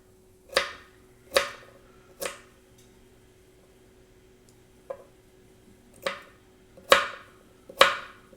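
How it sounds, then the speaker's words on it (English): A Granitstone NutriBlades utility knife cutting through food onto a board: seven crisp, separate chopping strikes, close and fairly loud, with short pauses between them and a longer gap in the middle. "Let's use the utility knife."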